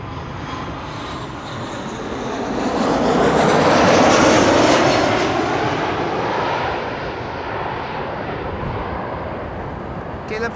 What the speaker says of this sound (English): KLM flight 1512 arriving from Barcelona.